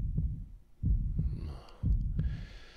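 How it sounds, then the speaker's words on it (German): Steady double-thump heartbeats from the video game Dark Maze 2, a deep lub-dub repeating about once a second, with soft breathy hiss over the later beats. "damit wir diesen blöden Herzschlag nicht mehr hören müssen"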